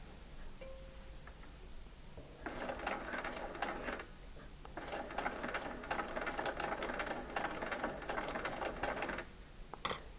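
A sewing machine stitches through bulky quilt seams on an eight-point star block, running in two bursts of steady rapid whirring separated by a brief pause, close and clear with no talk.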